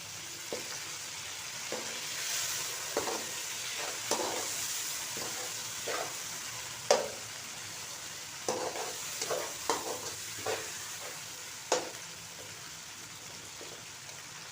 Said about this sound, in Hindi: अब हम इसमें डालेंगे टमाटर, जिनका हमने छिलका उतार लिया था